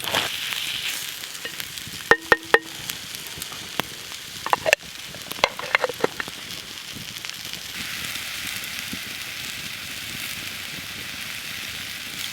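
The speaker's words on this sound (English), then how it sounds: "these are browning up nicely" Kidneys browning in a pan over a woodland campfire, with a soft continuous sizzle and crackle, punctuated by a few sharp clinks and knocks early on; fairly quiet, no one talking.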